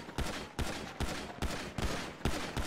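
Repeated loud gunshots in the GTA 5 game during a rooftop shootout while a truck is robbed, about six sharp blasts spaced at roughly half-second intervals, each with a booming low tail, close and without talk.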